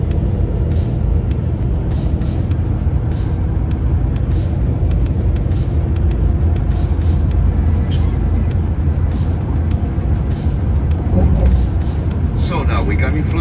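Bus crossing the long bridge to Copenhagen, a continuous low road rumble and engine drone from inside the cabin, steady throughout, with people talking over it.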